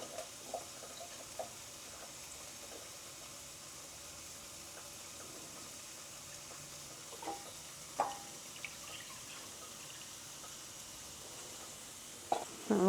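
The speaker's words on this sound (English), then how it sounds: "while the vegetables are sauteing" Vegetables sauté in a pan during a breakfast prep session, giving a faint, even sizzle in the background, with a few soft clinks and knocks scattered through it and a sharper clatter near the end.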